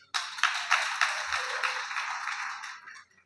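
An audience at a speech gives a burst of applause, a dense close wash of clapping that starts abruptly, holds for about three seconds and then tapers off.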